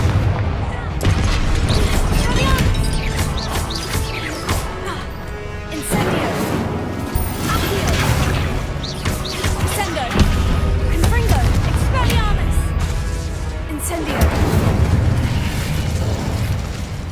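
An Incendio fire spell is cast in Hogwarts Legacy amid a dense, loud stretch of game action, with repeated booming bursts, crashes and mechanical rumbling, and a voice speaking at times.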